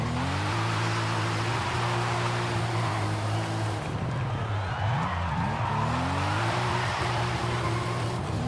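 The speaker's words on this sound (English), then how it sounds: "I don't know why this engine misfires." A car in Forza Horizon 5 runs with its engine misfiring, a loud steady harmonic drone that breaks into stuttering, wavering revs midway before climbing back up, with tire noise mixed in.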